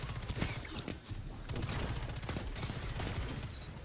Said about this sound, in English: 180 rate of fire hand cannons are very accurate in the air, allowing me to get the kill there